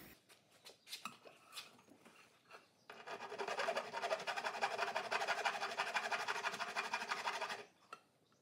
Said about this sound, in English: small jeweler's round file to kind of clean up the inside